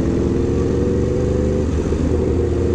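An Aprilia RSV4 RR sport motorcycle engine drones steadily and loudly while being ridden, a dense, continuous low roar with a slight shift in pitch partway through and no voices.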